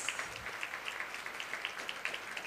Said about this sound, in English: We should give them a very big round of applause